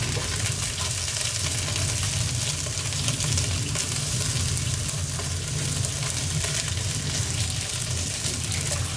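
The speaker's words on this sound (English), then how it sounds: "So you're frying your tomato paste." Steady, loud sizzling and crackling of tomato paste frying in a hot pan, continuous throughout with no talking.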